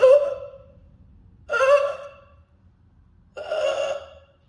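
A voice imitates agonal gasping breathing: three separate, sharp, loud gasping inhales, each trailing off, with pauses of about a second between them.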